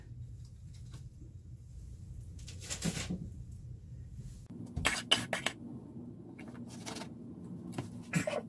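Metal biscuit cutter pressing through soft sprouted grain buttermilk biscuit dough, giving several dull thuds and light clinks at close range, with kitchen handling noise between them and no talk.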